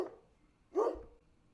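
A dog on a residential block barks twice, a short yelp followed by a louder, fuller bark at moderate distance, with quiet gaps around each and no voices.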